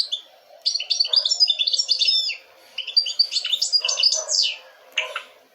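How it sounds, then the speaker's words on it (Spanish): Goldfinch song: bright, rapid twittering phrases in two long bursts, with a brief final flourish, close and clear over a quiet background. "Y este es el jilguero."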